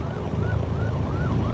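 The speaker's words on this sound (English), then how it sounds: "ambulance or something." An ambulance siren wails in steady rising-and-falling sweeps over traffic on a road near Nashville, loud and continuous above the rumble of passing vehicles.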